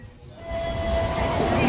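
A commuter train bound for Tanah Abang from Rangkasbitung rolls into the station, a rising rumble of wheels and rail noise building steadily, with a thin tonal whine over the hiss.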